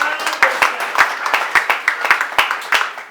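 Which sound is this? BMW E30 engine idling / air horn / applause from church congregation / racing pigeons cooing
applause from church congregation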